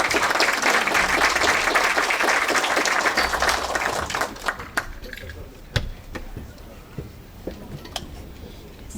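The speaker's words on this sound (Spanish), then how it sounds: "Lo recibimos con un fuerte aplauso." An audience at an evening ceremony honouring fishery engineers breaks into loud applause that fades to scattered claps.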